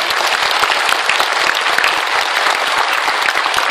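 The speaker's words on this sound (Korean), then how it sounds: "변희재 대표님께 큰 박수를 또 부탁드리겠습니다" Loud, dense applause from an audience at a Korean political presentation event, a steady wash of many hands clapping for a speaker, continuous and close throughout with no talk.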